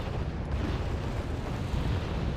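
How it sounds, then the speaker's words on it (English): Artillery fire in the video game Wargame Red Dragon forms a dense, continuous rumble of distant blasts, a thick roar with no single boom standing out. "Constant artillery"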